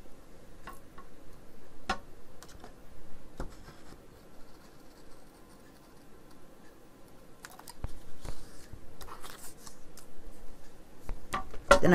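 Scissors cut slowly through paper as part of a craft project, producing soft, irregular snips and rustles close by, with scattered clicks and no talking.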